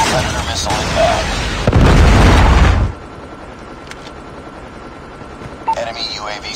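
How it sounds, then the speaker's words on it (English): A loud, broadband Predator missile blast in Call of Duty Mobile multiplayer lasting about a second, followed by a quieter rumbling bed and faint scattered noises, with a brief rise near the end. "Predator missile inbound."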